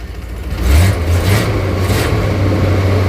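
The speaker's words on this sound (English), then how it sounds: "Nice small block Chevy right there." A 1979 GMC Vandura 3500 camper van's small block Chevy V8 runs steadily with a low, rumbling idle that swells briefly as it revs, close and continuous with a hint of muffler leak.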